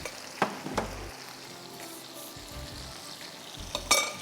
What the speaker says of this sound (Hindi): हल्दी लगा के आप अरबी को तल दीजिए।